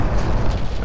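Enemy naval guns fire in Ultimate Admiral Dreadnoughts, a loud, dense low boom that rolls on steadily for under a second, filling the clip without a break.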